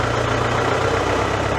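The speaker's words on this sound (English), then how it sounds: "Gear chatter because I'm kicking over." A tractor engine idles with steady, loud, low rumbling and rattling gear chatter from the gearbox backlash.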